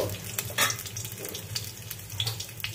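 Whole cumin seeds frying in oil with green chillies, a close crackling sizzle broken by quick scraping stirs of a spoon, short and steady with no voices.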